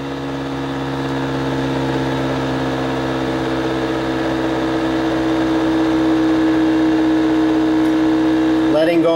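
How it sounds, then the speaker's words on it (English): Reluctance motor running under a brake, a steady loud electric hum with stable tones that barely shift as the speed falls, ending in a brief clatter. "So I'm pulling the brake. The RPM's going down again."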